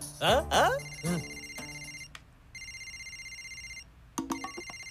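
A synthetic phone ringtone plays in repeated melodic bursts, starting under a voice speaking and then ringing alone.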